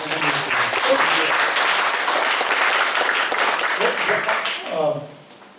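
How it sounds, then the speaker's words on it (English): Audience applause fills a room after a lecture presentation at a lunch club in Oklahoma City, steady and dense clapping that fades out near the end as a voice begins. "Nice presentation. Round of applause."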